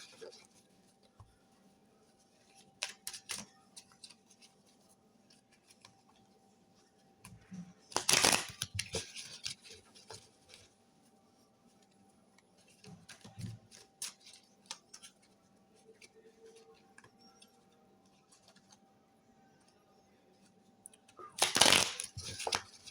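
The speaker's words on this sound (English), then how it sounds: "I'll just give the cards a good shuffle here today" Two short bursts of papery riffling as a deck of cards is shuffled, with quieter handling and taps between them in a hushed room.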